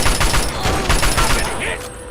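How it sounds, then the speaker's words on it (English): Rapid bursts of gunfire from the video game Fallout 3, a dense, loud volley of repeated shots with scattered impacts over two seconds, with a voice briefly talking. "Keep firing."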